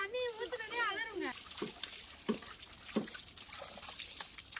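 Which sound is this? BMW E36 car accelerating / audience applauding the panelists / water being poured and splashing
water being poured and splashing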